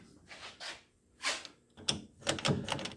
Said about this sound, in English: So now I can open the doors without risking damaging the paint.